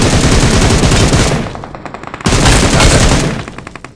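Loud, close automatic gunfire from PUBG Mobile: two long sustained bursts of rapid shots, each trailing off into scattered individual reports, with no talk over it.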